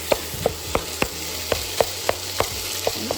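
A pound of ground turkey fries in butter with a steady sizzle, punctuated by regular close taps of a utensil striking the pan about three times a second.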